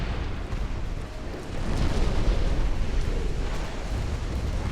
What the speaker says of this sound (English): Three consecutive torpedo hits